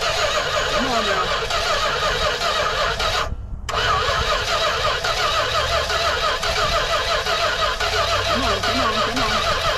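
A 1976 Dodge D100 short-bed truck engine cranking as it tries to start, a loud continuous churning drone that cuts out briefly and resumes, with voices faintly underneath.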